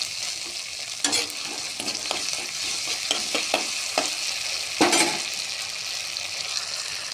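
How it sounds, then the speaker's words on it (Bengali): Mustard paste fries in a pan with a loud, steady sizzle close by, broken by repeated scraping strokes of a spoon stirring it, with two sharper bursts; nobody talks. "শস্য বাটা দিয়ে নাড়াচাড়া করতে থাকবো"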